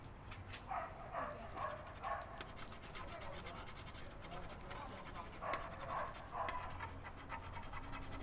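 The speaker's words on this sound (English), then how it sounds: "That's a young dog too." A young dog pants in quick, rhythmic bursts with light scratching, close by, while people talk softly in the background.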